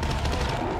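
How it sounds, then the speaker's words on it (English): Rapid bursts of shotgun fire from the zombie shooter World War Z, loud and close, filling a brief moment of frantic gameplay with dense blasts over noise. "Ooh, is that that shotgun?"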